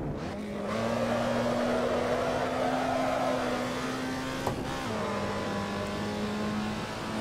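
A racing Alfa Romeo GTA in Assetto Corsa, driven on the Nordschleife, holds a loud, steady high-revving engine drone, with a brief dip as it shifts gear partway through and then settles back into a sustained howl, close and with no talking.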